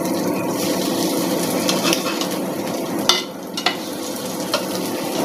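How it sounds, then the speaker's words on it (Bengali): Egg-soaked bread slices frying in hot oil in a pan, a loud steady sizzle with a few sharp clinks and taps from utensils, close up and alone. "এইভাবে আমি সবগুলো এক এক করে ভেজে নেব"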